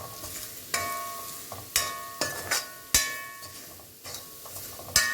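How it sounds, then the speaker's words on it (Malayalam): Grated coconut being stirred into a long-bean stir-fry in a pan, repeated close metallic spoon scrapes and clinks over a soft sizzle, about six strokes at an uneven rhythm. "നാളികേരം മിക്സ് ചെയ്യാം."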